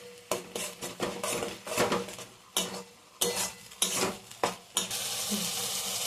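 A spice masala with turmeric, salt and sugar is sautéed in a pan, with repeated scraping stir strokes of a spoon against metal over a continuous sizzle that grows louder and steadier at the end.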